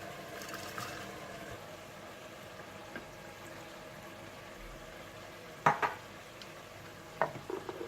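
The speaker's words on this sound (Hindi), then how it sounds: "और अब आप गोश्त को अच्छी तरह से भून लीजिए" Mutton frying in a pot, with a low steady sizzle under occasional stirring and a couple of sharp metallic scrapes of a spoon against the pot, heard close and without talk.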